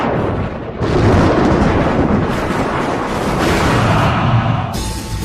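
A loud, deep rumble of thunder rolls on without a break, a dense booming roar that swells and holds before easing slightly near the end.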